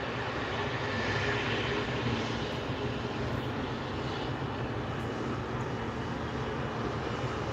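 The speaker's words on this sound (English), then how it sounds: "There's a Dassault Falcon taxiing." A Dassault Falcon private jet taxiing at an airport gives a steady, loud, broadband engine roar with a low hum, continuous and unchanging throughout, with no voices.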